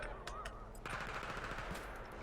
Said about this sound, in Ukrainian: По мені вже стріляють.